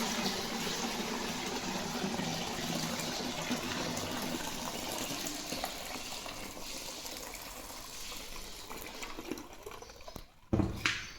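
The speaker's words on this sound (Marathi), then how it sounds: "तर अशी चाळणी ठेवली मी आणि हे पाणी काढून घेते." Soaking water drained from three-day-soaked wheat grain through a sieve, a steady gushing pour that runs for several seconds and thins to a few splashes at the end.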